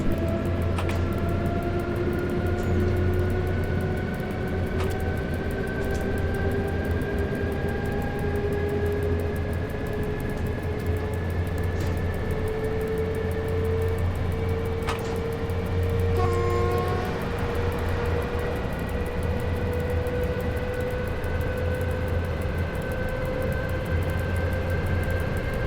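A train runs steadily in the railway simulator SimRail, giving a continuous low rumble with a rising mechanical whine and a brief horn-like tone partway through. No one talks.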